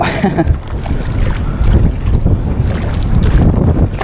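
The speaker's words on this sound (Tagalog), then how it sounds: "Lakas ng hangin." Strong wind buffets a small fishing boat on open water, a continuous loud rumbling roar with gusty surges and no talking.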